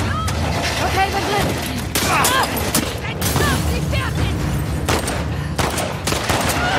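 Gunfire in The Last of Us Part II cracks out in scattered shots and bursts amid a noisy combat soundscape, with voices talking over the action.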